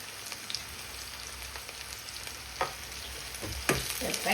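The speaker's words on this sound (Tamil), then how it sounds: "இனி வந்து வெங்காயம் வந்து நல்லா வந்து சூடாக பொரிஞ்சு வந்து நல்லா கோல்டன் கலரில் வரணும்" Onions frying in hot oil, a steady close sizzle broken by a few louder stirring scrapes toward the end, no voices.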